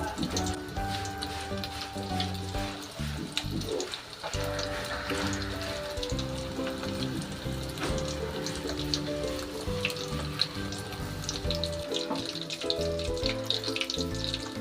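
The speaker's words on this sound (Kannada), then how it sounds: "ನೋಡಿ ಒಂದೊಂದೇ ಇದು ನಿಧಾನಕ್ಕೆ ಎಣ್ಣೆಲಿ ಬಿಡಿ, ನೀಟಾಗಿ ಫ್ರೈ ಆಗಬೇಕು." KFC-style chicken pieces fry in hot oil over a medium flame, a steady dense sizzle and bubbling hiss that continues without pause, close and moderately loud.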